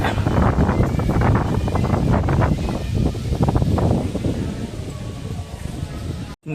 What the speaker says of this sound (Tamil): காற்று சூப்பராக வீசுதுங்க.